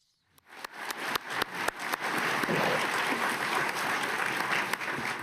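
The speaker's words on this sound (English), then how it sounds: "you could hear the applause all the way from Davos to the White House" An audience at the World Economic Forum in Davos applauds after a presidential speech. A few sharp, separate claps open it, then the ovation quickly swells into dense, steady applause that fills the hall and holds to the end.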